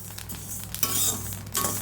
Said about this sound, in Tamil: பொரி அரிசியாக வறுத்து எடுத்துக்கலாம். நல்லா வறுத்து